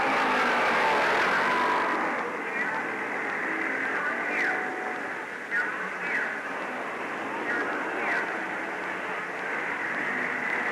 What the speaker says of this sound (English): Don Hawley's Triumph Cub trims the corner and Axthelm is close behind